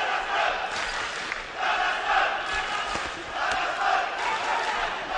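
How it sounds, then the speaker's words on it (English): A crowd at an amateur boxing bout between a Ukrainian and a Kazakh boxer chants steadily for the Kazakh fighter, a dense, sustained roar of voices that swells in waves and fills the arena, with no clear speech above it. "Hear the crowd chanting for that Kazakh boxer."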